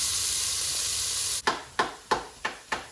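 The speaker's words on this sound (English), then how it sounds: "I just want to just kind of stir fry it for 2 minutes" Vegetables for a dal, carrot and courgette, stir-fried in a pan: a steady bright sizzle, then a series of about five scraping stirs at a regular pace, each flaring the frying noise up close.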